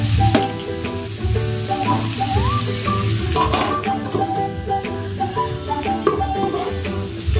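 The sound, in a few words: bottle gourd and potato frying in a covered pan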